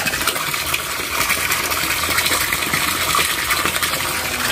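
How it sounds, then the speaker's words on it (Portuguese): A Petflix submersible aquarium pump runs in a fish tank, pushing out a loud, steady rush of flowing, bubbling water that continues unbroken throughout. "tá ligada a bomba de modo provisório, mas vocês podem ver a vazão da água dessa bomba"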